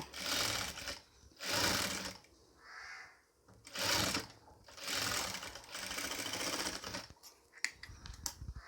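Sewing machine stitching a neck piece onto a nighty, running in several separate bursts of rapid mechanical whirring with short pauses between them, close and clear, with quiet talk in the gaps.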